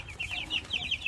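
Newly bought baby chicks kept in a covered pen peep and cluck in quick, repeated high chirps, close by and moderately loud.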